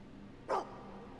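A dog in the video game Fable II gives a single short, faint bark against a quiet background hum.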